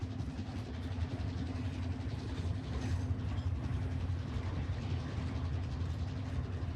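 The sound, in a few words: train arriving in the video game Warzone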